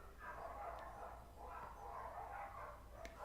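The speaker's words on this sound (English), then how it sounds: "If you hear those dogs barking out there," Dogs barking outdoors in the distance, a steady run of repeated muffled barks heard through the walls of a room during an indoor whiskey tasting.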